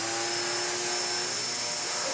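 A Hoover Pure Power upright vacuum cleaner runs steadily at close range, a loud, constant broadband whine with a sustained tonal hum and no pauses.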